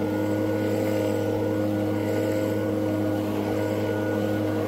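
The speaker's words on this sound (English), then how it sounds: "Doing your best to blow all the leaves" A leaf blower pushes wet leaves across a lawn, a loud, close, constant engine drone with a steady whine and no letup for the whole stretch.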